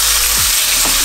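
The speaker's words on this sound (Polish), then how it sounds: "Jak słyszycie, olej dobrze rozgrzany, smażymy kurczaka" Chicken fries loudly in well-heated oil for a Mexican tortilla, a dense, unbroken crackling sizzle close to the pan.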